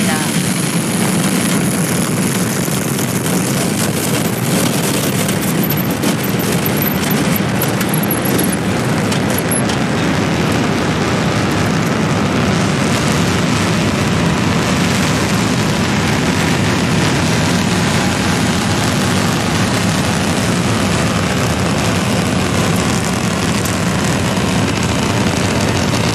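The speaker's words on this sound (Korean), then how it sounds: "누리호가 발사되었습니다." The Korean Nuri rocket's engines roar during its second launch, a loud, dense, unbroken rumbling wall of noise that holds steady for the whole stretch.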